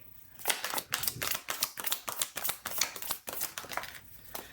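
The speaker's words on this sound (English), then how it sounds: "I just started shuffling" Rapid, crisp riffling of tarot cards being shuffled repeats in quick bursts, close and fairly soft, with no voices.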